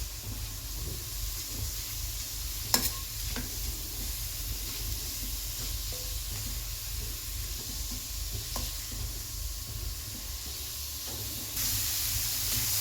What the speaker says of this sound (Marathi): आता हे गाजर फोडणीमध्ये छान असं परतून घ्यायचं आहे.